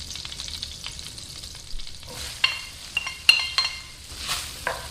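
Breadcrumbs fry in melted, foaming butter mixed with oil in a pan, giving a soft sizzle broken by sharper crackles and the scrape of stirring, fairly close and quiet.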